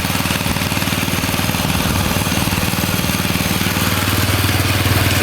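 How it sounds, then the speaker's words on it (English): A 1966 Bolens 1050 garden tractor runs its rear tiller, the drive shaft vibrating as the engine chugs loudly and steadily close by with a rapid, even mechanical throb throughout. "there's some drive shaft vibration for the tiller. You see it spins nicely."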